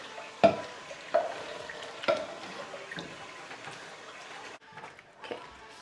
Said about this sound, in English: Okay, I'm gonna give this a stir.